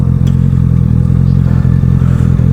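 A restricted four-cylinder Yamaha YZF R125 motorcycle engine revs loudly and close, a steady buzzing drone with slight rises in pitch, running alone without voices.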